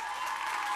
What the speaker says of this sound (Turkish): Evlenmemi istemeyenler alkışlasın